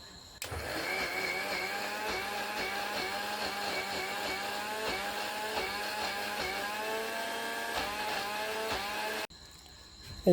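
An electric kitchen grinder runs steadily for about nine seconds, grinding food ingredients for a traditional Rajbanshi dish that includes dried fish powder. Its loud, whining motor hums at a constant pitch, then cuts off abruptly.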